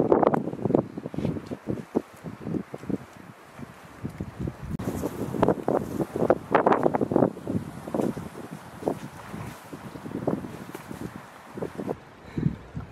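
Wind blowing outdoors during a bare-ground hunt, steady gusty rumble and microphone buffeting throughout, loud and close with no talk.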